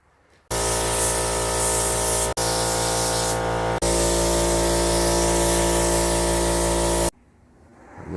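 Spray gun laying a coat of paint on 2009 Harley FXSTC motorcycle parts, a loud steady hissing blast lasting several seconds with two brief breaks, ending in quiet.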